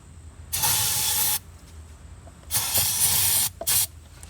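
Aerosol starter fluid sprayed into a Lexus throttle body in three close bursts, a long hiss, a second long hiss and a short final squirt, with quiet gaps between.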